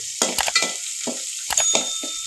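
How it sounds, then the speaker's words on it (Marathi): Coriander leaves hit hot oil for a tempering in a Malvani bangda chutney cooked on a wood-fired stove, giving bursts of crackling sizzle and stirring clinks over a constant high frying hiss. "थोडीशी कोथिंबीर टाकते थोडीशी फोडणीला, आणखी मस्त टेस्ट येते."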